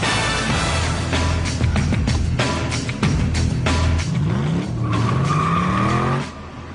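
A car drives through a tunnel in the 2007 Transformers movie, its tires squealing and skidding with a loud, continuous engine roar and rising whine that echoes throughout, cutting off near the end.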